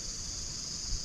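Insects buzz in a steady high drone beside a creek in Bowenville Reserve, Queensland, a faint continuous trill heard alone with no distinct birdsong.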